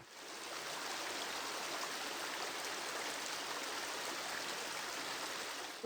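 Nanticoke Creek flows past an abandoned mine drainage treatment system in Pennsylvania, a steady, moderately quiet rush of running water that continues unbroken for about six seconds.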